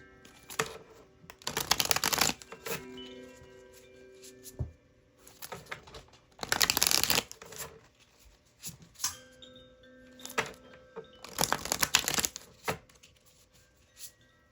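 Tarot cards are shuffled in three loud, close riffling bursts, separated by quieter flicks, taps and card slides as cards are drawn and laid down.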